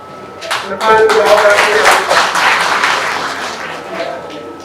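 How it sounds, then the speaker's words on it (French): A crowd at a village community event celebrating the revival of a local market claps loudly, rising quickly into strong, dense applause that tapers slightly; a voice is briefly heard near the start. "Je voudrais qu'on puisse applaudir très fort nous-mêmes."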